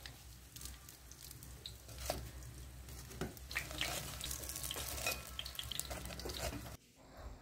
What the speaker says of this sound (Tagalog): ipiprito ko na ito sa mainit-init na mantika.